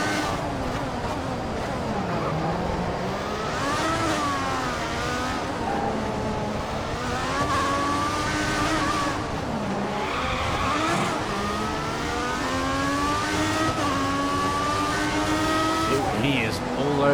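Formula 1 cars in the F1 2014 racing game hold a steady, loud engine whine that rises and falls through gear changes, with braking and tyre squeal, while someone talks over it throughout.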